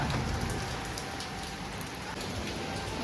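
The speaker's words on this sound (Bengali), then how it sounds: "এত বাতাসের সাথে বৃষ্টি হয়েছে" Steady wind-driven rain pours down, a dense continuous hiss of drops striking surfaces, loud and unbroken throughout.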